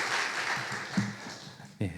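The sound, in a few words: applause welcoming the pastor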